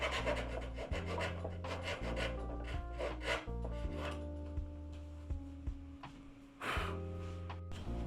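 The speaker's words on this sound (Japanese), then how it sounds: "描いた線を狙ってノコギリで溝を掘っていきます。" Rhythmic rasping of a hand saw cutting a groove into wood for an inlay on a 60-year-old Teisco BS-101 bass under restoration, steady back-and-forth strokes close up, with a low droning hum underneath.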